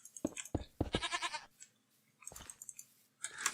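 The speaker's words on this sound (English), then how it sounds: "This goat is really, really in my way" Goat in a modded Minecraft multiplayer world bleats loudly in several short, close bursts, one drawn-out nasal cry in the middle, separated by quiet gaps with faint clicking.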